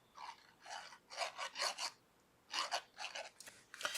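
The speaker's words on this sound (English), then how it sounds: "So I'm going to put glue on this." Glue is applied to a paper plaque card, heard as a quiet series of short rubbing, scraping strokes in a rough rhythm, close up with no talking.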